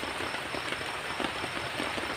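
Steady rain falling at night in a forest during camping, a dense, even hiss of drops on surfaces, constant and close with no talk.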